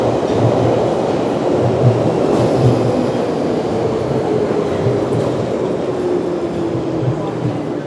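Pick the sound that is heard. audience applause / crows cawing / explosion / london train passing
london train passing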